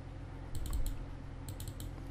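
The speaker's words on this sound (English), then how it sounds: "Just press and hold the shift button on your computer keyboard and just left mouse click." Faint computer keyboard and mouse clicks in two small clusters, a few quick taps each, over a low room hum.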